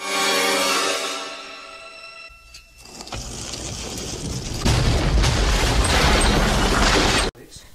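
Heavy booming blasts and crackling rumble, loud and close, with a sustained roar building in the second half before cutting off abruptly.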